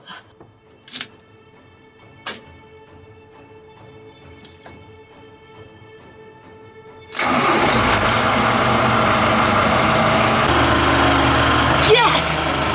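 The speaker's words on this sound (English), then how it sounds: "It's time to crank the engine and just hope that it turns over." Quiet clicks and faint hum, then a narrowboat engine cranks and catches after a power failure, settling into a steady loud running rumble nearby.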